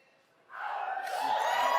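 Audience applause and cheering at an E3 Square Enix presentation rise suddenly from near quiet into a steady wash of clapping crowd noise that keeps building.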